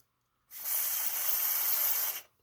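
Single close burst of aerosol contact cleaner sprayed into an old switch of a cordless hand vacuum with no power, a sharp steady hiss lasting under two seconds against silence.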